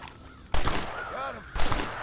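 Two sharp gunshots from a Red Dead Redemption shooting game crack out about a second apart while crows are hunted, with crow caws fluttering in the gap between them.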